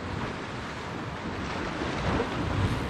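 Wind blowing steadily across a rocky Jurassic shoreline while shore fishing, a continuous broadband rush with surf-like roar and buffeting on the microphone, fairly loud and with no speech.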